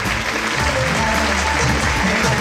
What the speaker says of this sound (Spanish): vuelven a su asiento también con el aplauso de todos ustedes